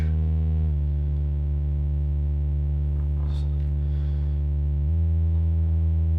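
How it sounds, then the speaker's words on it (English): Dual Universal Slope Generator module running as an audio-rate oscillator, giving a steady buzzy electronic tone that shifts pitch slightly twice, loud and continuous, heard alone. "you can hear it's now, it's oscillating in the audio range"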